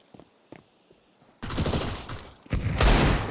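In Counter-Strike 2, a few faint taps and clicks give way to loud, close bursts of rapid gunshots that come in two heavy volleys.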